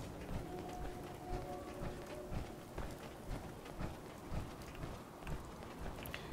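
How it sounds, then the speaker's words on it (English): Rain falling across the wasteland in Fallout 4, a steady soft hiss of drops with faint rhythmic footsteps of a character walking through it, low in level with game music underneath. "Walking through the wasteland in the rain."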